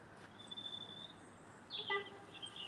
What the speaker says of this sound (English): I can really hear the birds here today.